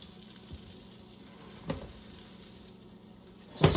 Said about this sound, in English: You melt the butter until it starts to go brown and all that foam disappears.